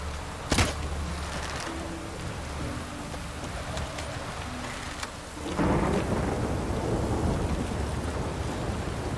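Steady rain in The Witcher 3 video game, a dense continuous hiss throughout, with a sharp crack of thunder near the start and the downpour swelling heavier partway through; no talking.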